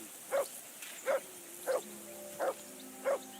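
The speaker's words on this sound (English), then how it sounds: "I assume you can hear that damn dog of yours barking." A dog barks in the video game Kingdom Come Deliverance II, five evenly spaced single barks at moderate distance over a quiet ambient background with a faint low hum.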